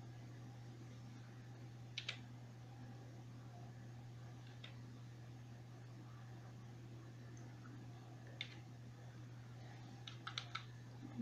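Computer keyboard typing a short phrase into an online translator: a few faint, sparse keystroke clicks in small bursts over a steady low fan hum, with no speech.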